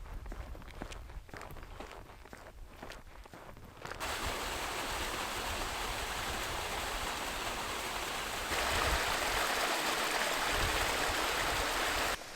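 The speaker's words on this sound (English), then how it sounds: "I love little creeks like this, the little water streams here." A small creek in Swedish hiking country flows with steady broadband rushing water, which grows louder once the walker reaches it. Crunching footsteps are heard before it, and no one talks.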